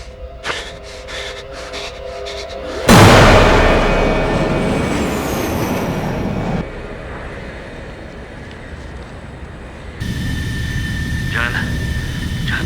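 An airplane engine suddenly roars up loud and close, a broad rushing drone that lingers and shifts, heard in a tense action-film scene with no talk over it.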